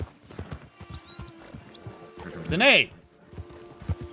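In the Red Dead Redemption 2 video game, a horse gives a loud, sharp whinny midway through, with soft clip-clopping hooves throughout while someone talks and calls out over it.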